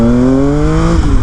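A 2019 Triumph Speed Triple RS motorcycle engine revs hard through a wheelie, a loud, close, steady drone whose pitch climbs smoothly for about a second before easing off, with no talking.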